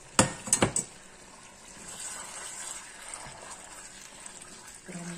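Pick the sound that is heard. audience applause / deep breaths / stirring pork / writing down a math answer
stirring pork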